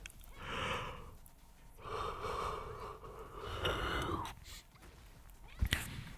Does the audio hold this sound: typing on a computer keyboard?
no